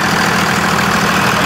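A 2001 Dodge Ram 3500 dually's old Cummins diesel idles steadily up close, a loud, even, continuous rumble with no talk over it.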